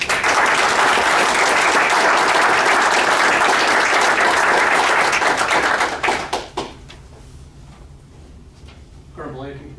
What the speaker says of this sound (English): big applause for all these things that you have received